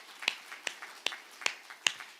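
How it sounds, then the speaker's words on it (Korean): Congregation clapping during a Sunday church worship service: five sharp, evenly spaced claps about every 0.4 seconds, crisp and fairly close, with faint softer claps between them against a quiet background. "하나님께 박수를"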